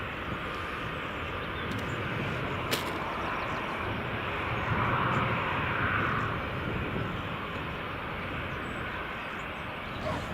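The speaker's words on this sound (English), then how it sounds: "KLM just coming in now." A KLM airliner arrives at Edinburgh Airport in the early morning, its jet engines a steady distant roar that swells gently in the middle and then eases, heard without talk.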